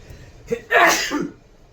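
A single sharp sneeze, close and loud, with a short intake of breath just before it.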